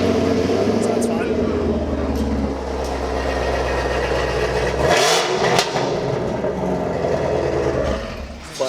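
A car engine, just restarted after a throttle controller was unplugged, runs and revs in a garage, the rumble rising and settling over several seconds, with someone talking over it.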